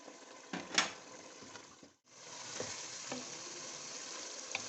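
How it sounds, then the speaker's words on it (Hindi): Yogurt and chopped green chillies frying in ghee in a pot for chickpea pulao, a steady close sizzle with stirring scrapes and a brief pause midway. "अब हम इसमें ये दही शामिल करेंगे, और इसको मज़ीद भूनेंगे"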